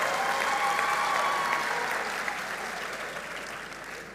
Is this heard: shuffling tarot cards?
no